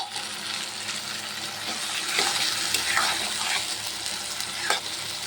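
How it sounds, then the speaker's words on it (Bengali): Masala poured into a pan of okra (bhendi), sizzling and frying steadily while a spoon stirs with intermittent scraping clicks, close and moderately loud, no voices. "এখন আমি মশলাটা দিয়ে দিব, সব ঢেলে দিলাম মশলাটা।"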